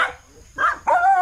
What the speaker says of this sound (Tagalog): Grabe daming aso.